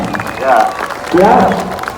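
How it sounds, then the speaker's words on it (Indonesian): Applause and crowd noise come in two bursts at a motorcycle taxi drivers' street demonstration at Patung Kuda in Jakarta, loud and close, mixed with voices. "Ya, tepuk tangan dulu untuk Ojol Indonesia."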